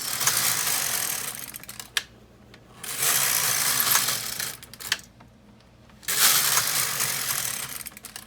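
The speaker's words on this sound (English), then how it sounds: "I pull all the needles, I've got the carriage in hold on both sides, knit 3 rows" The carriage of an LK 150 knitting machine makes three passes across the needle bed, each one a loud, rattling mechanical run of clicks lasting about two seconds, with short quiet pauses between rows.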